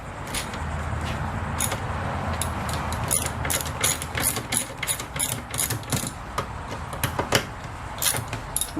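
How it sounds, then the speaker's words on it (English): A ratchet wrench works bolts loose from a 1996 Ford F150 bucket seat frame, making rapid clicking pawl bursts and metallic rattles, close and fairly loud with no talking. "I'm going to take these two bolts out"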